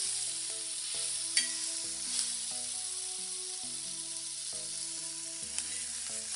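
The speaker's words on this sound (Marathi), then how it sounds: "आपण याच्यामध्ये अद्रक टाकूया." Ginger frying in a pan with chana dal for a coconut chutney: a steady close hiss and sizzle continues throughout, with occasional faint pops and light stirring, under a quiet tonal background.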